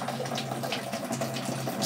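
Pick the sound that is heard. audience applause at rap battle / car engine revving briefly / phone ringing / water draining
water draining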